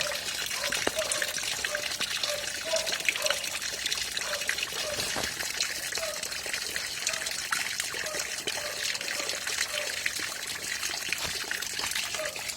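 Water trickling and splashing steadily into a plastic shrimp pond, a continuous close dribble with a faint repeating bubbling tone underneath, no talk.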